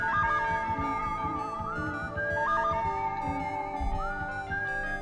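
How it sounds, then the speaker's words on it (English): A Western-style whistled melody in Ace Attorney - Justice for All, carried over a full, busy musical backing with trills and sustained notes, playing continuously throughout. "Thank you so much for the Western whistle"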